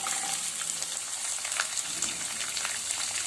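Onion, green chillies and curry leaves fry in oil for leftover-idli upma, a soft steady sizzle with light crackles and a faint stirring scrape, fairly quiet and close.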